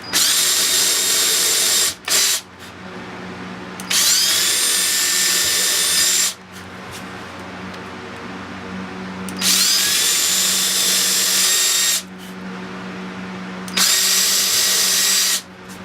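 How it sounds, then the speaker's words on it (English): A power drill drilling into metal for a bottle opener whines in three long bursts separated by short pauses, loud and close, with its pitch sliding slightly as it bites into the material. "just nice and easy, drill into it"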